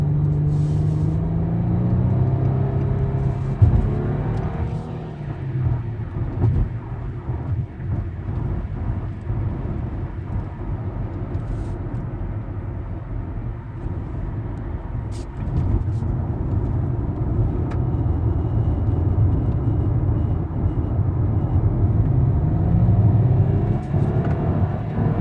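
A 2007 Nissan Altima 3.5 SE with a continuously variable transmission drives under a gentle, feathered throttle, giving a steady low engine and road rumble that swells slightly as it accelerates, with faint cabin noises and no talking.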